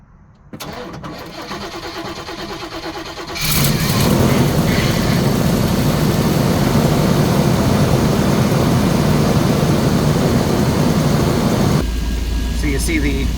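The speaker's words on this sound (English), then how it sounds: "you could use the house batteries to start the engine" An engine cranked over using the house batteries fires up and settles into a loud, steady running drone that continues for several seconds, with a brief lull near the end.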